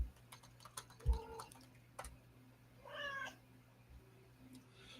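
A cat gives a couple of short meows around the middle of the clip, moderately close, amid light clicking and tapping like keyboard typing in a quiet room.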